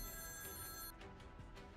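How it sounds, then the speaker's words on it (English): An office phone in the video game Goddess of Victory: Nikke rings faintly with a thin electronic bell tone, then cuts off abruptly about halfway through, leaving soft background sound. "All of a sudden, every phone in the office erupts into ringing at once."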